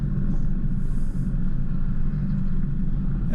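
A 4WD grinds slowly up a rocky hill track in the high country, a low, steady engine rumble with constant road noise, heard from inside or close by, with no one speaking.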